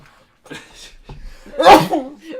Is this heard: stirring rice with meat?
no